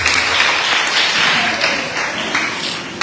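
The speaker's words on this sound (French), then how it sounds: "Acclamons pour la parole de Dieu." A church congregation applauding together, steady dense clapping that fills the whole stretch at an even, fairly loud level.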